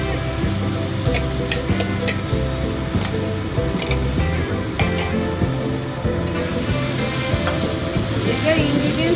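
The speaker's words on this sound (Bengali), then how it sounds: "পেঁয়াজ, রসুন, আদাটাকে একটু ভেজে দিচ্ছ।" Onion, garlic and ginger fry in a pan for a Bengali fish galouti kebab, giving a close, steady sizzle with stirring scrapes and clatter throughout and no talking.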